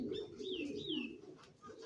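A racing pigeon coos softly and close by, a few low rolling coos with a faint higher whistling tone above, in a quiet setting.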